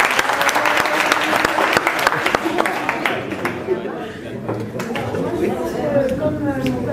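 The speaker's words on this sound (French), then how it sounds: "Il faut l'applaudir." An audience claps for a timid speaker who came forward, starting loud and dense, then thinning into scattered claps over murmuring chatter and light laughter.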